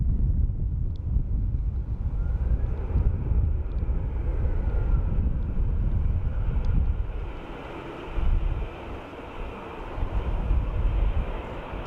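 Strong wind buffets the microphone outdoors at Dublin Airport, a heavy low rumbling roar that gusts and dips briefly before building again, with no voices.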